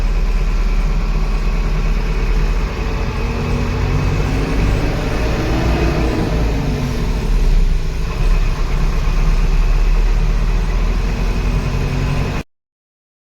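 A sugarcane harvester engine runs with a loud, steady low drone, unbroken and close, then cuts off abruptly at the end.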